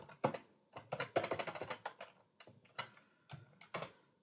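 Fingers tap out quick irregular bursts of keystrokes on a brand-new computer keyboard, close and fairly quiet, with brief pauses between clusters.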